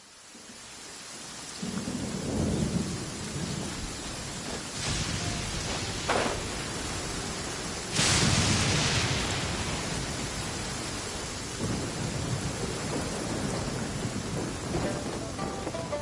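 Thunder rolls over steady rain in a video game, with several deep booming rumbles rising out of a constant hiss of rainfall, the loudest crack arriving past the midpoint.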